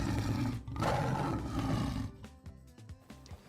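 A tiger gives a deep, loud, rumbling roar that sustains for about two seconds, then breaks into a few short huffing grunts as it fades.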